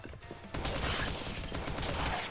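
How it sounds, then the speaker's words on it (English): Gun reloading in the video game Rise of the Gorecats, a dense metallic clatter and rattle that starts abruptly and carries on steadily for about two seconds, close and fairly quiet. "If I just reload here. See how meaty that sounds."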